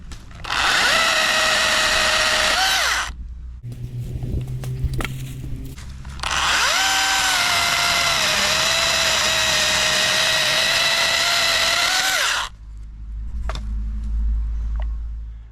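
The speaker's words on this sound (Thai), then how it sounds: "กิ่งที่ผมเพิ่งตัดตัวเลื่อยโซ่มินิไปนะครับ" A mini chainsaw cutting through a hardwood branch three to four inches thick, with two long, loud, steady bursts of high whining motor separated by a lower idling stretch, and a low rumble trailing after the second cut.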